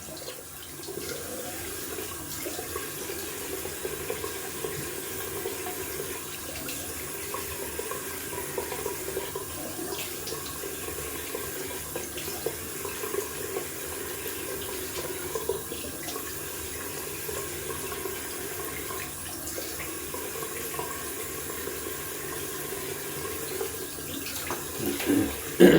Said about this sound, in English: Alright, going down for a cold water rinse.